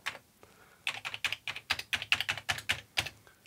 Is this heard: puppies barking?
no